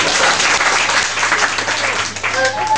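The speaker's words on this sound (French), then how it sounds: "Applaudissez encore" Audience applause at a Christmas 2006 gathering, a brisk burst of group clapping with a few voices calling out through it.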